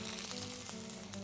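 Ginger paste sizzling in hot oil with asafoetida and spluttering seeds for a carrot and green peas sabzi, a close, steady frying hiss with faint crackles.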